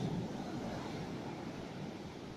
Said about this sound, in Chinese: 但是它的浪还有它的海浪声，的确是非常的美。